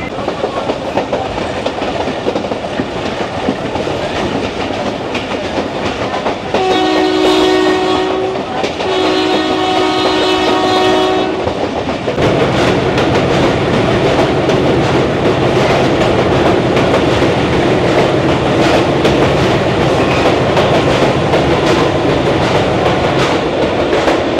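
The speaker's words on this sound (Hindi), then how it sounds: "तो अवाम एक्सप्रेस को रास्ता देने के बाद अब हम बुरहान स्टेशन से निकल रहे हैं" Passenger train pulling out of Burhan station after giving way to the Awam Express, with a long two-part horn blast followed by loud, steady running noise of wheels and wagons on the track.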